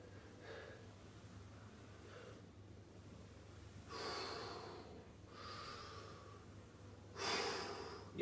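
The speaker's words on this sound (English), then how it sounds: "Your breath wants to sound like waves of the ocean." Deep, slow yoga breathing in a mobility and hip-opening session, shaped to sound like ocean waves: three or four long, soft airy swells, each rising and fading, with a faint low hum underneath and no talking.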